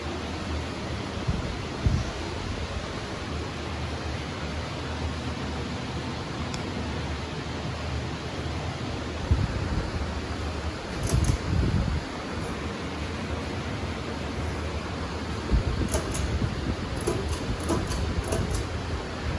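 A 46-inch Hunter Antero ceiling fan runs steadily, giving a broad, even whoosh of moving air that stays constant at moderate level, with a few faint clicks and bumps over it and no voices.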